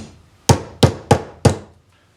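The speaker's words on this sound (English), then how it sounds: "you can take a hammer and just tap that thing on" Four sharp hammer taps drive a Hamboards Wavecam part onto a skateboard truck, evenly spaced and close, each a crisp knock with a short decay, no voices.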